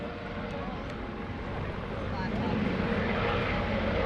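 A US Coast Guard search and rescue helicopter based out of Atlantic City, flying a demonstration at an airshow, gives a steady, loud rotor and engine roar that builds slightly as it nears.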